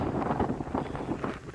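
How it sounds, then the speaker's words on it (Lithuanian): Strong wind buffeting a steep, rocky island shore, a continuous close roar with gusty surges against the microphone, heard alone without voices. "Tai žiūrėkite, kaip čia daužosi vėjas"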